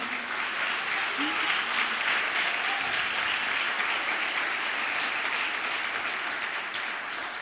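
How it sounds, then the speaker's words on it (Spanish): A church congregation applauds in a continuous, even wash of clapping that carries on for several seconds, moderately loud and with a faint voice underneath. "Denle un aplauso ahí al Señor"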